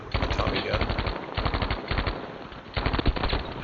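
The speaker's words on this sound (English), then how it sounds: "get them with the Tommy gun." Rapid, sustained automatic bursts from an M1928 Tommy gun in a video game battle, loud and close with short pauses between strings of shots.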